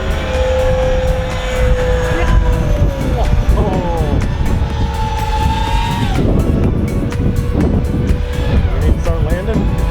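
Five radio-controlled F15 Eagle model jets flying together in formation, a loud continuous whine of jet engines rising and falling as they pass, with people talking over it.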